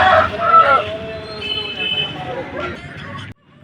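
A rooster at a poultry market in Vijayawada, crowing and clucking loudly and close by while people talk in the background.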